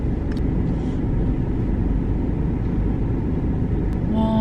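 Inside a 2021 Mini Cooper 3-door being driven, a steady low engine and road rumble fills the cabin, with a few faint clicks and no clear speech.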